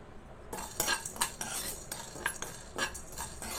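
Spices for rasam are lightly roasted in a pan, a spoon clinking and scraping against the metal in irregular strokes, quiet and close with no voice.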